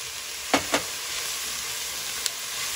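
Onions and celery sautéing in a pot with red chili flakes for a spicy keto mushroom soup, a soft steady sizzle broken by two quick scrapes early on and one brief clink later.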